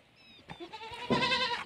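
A single nearby bleat from a local desi dairy goat on a farm, loud and quavering, following a few soft shuffling sounds.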